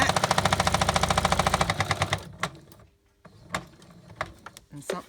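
A faulty quilting machine runs with a fast, loud, rhythmic mechanical chatter for about two seconds, then stops, leaving scattered clicks and knocks while a person speaks.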